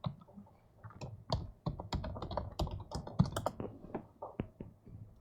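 Password typed on a computer keyboard, a quick uneven run of light key clicks and taps, close and fairly quiet, with no talk over it.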